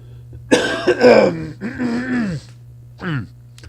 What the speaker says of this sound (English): I just coughed up a lung there.